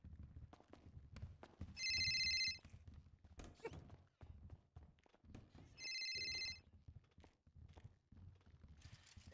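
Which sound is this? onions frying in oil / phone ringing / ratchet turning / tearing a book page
phone ringing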